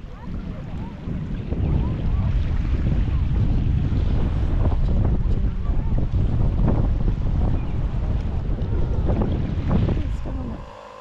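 Strong wind at Brewers Campground buffeting the microphone in a loud, continuous roar with water and wave noise beneath, easing off near the end; voices may be faintly mixed in.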